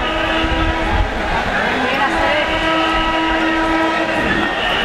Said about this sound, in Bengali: সাবধানে থাকবেন, ট্রেন আসতেছে